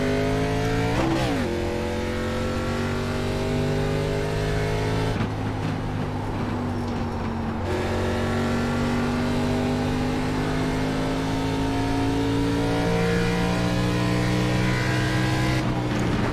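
Race car engine in the iRacing sim, a steady loud drone with harmonic whine that climbs and drops through gear changes over a lap, with a brief deeper rumble midway and no talking.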